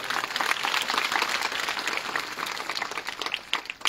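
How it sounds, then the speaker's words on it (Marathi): A crowd claps together in loud, sustained applause that continues throughout. "या स्वरूपाकरता सर्वांनी जोरदार टाळ्या वाजवायचे"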